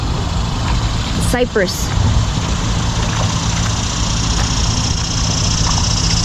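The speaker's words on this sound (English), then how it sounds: "We're getting away from the traffic noise." Steady road traffic from a nearby highway overpass rumbles continuously beneath a creek kayaking route, low and constant, with someone talking briefly over it.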